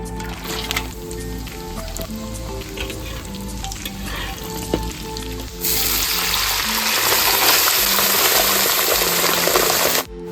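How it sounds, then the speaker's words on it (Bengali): Cashews and raisins fry in hot ghee and oil for a large batch of vegetable fried rice. A steady sizzle runs under occasional stirring clatter, then swells into loud, continuous, close-up frying. "তেল গরম হয়ে গেছে, দিয়ে নিচ্ছি কাজু আর কিশমিশ।"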